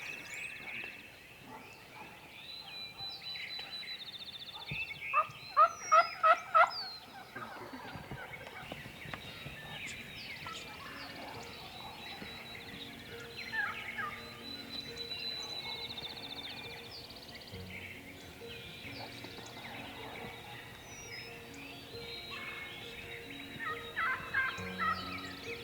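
A wild turkey gobbler gobbles outdoors, with a loud burst of rapid, repeated gobbles early on and further scattered calls and faint rustling through the rest of the stretch; no one speaks.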